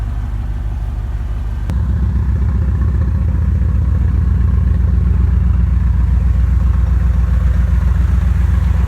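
A warmed-up V8 in a Chevy OBS pickup with a 5-speed runs loud and close with a steady, lumpy idle rumble, its level rising slightly after a small click early on.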